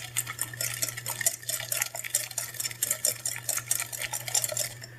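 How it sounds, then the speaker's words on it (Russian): Egg whites being stirred with sugar, salt and lemon juice in a heatproof glass bowl set over steam, with a steady rhythmic scraping and clinking of the utensil against the glass, close and alone. "И все это перемешиваю."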